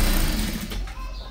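A sewing machine stitching a border onto a cloth diaper, a brief close, steady mechanical whir that fades slightly toward the end.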